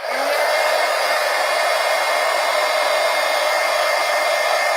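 Hair dryer blowing on a thick mixed media layer, a loud continuous whirring hiss with a steady motor hum, close and unbroken throughout, no talking.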